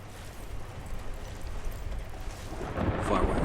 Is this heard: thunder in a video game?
yes